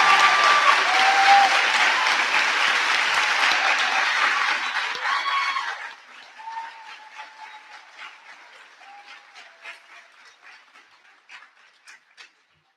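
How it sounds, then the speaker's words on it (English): A graduation ceremony audience applauds the teachers with full, dense clapping for about six seconds, then the ovation thins to scattered individual claps that fade out. "Can you give your teachers a round of applause"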